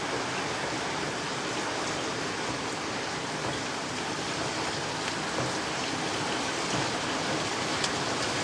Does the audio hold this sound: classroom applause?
no